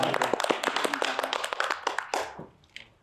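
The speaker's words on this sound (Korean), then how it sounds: "박수로 한번 마무리하도록 하겠습니다" Small studio group clapping at the close of a Korean TV discussion broadcast, a few seconds of brisk, uneven hand claps that thin out and fade near the end.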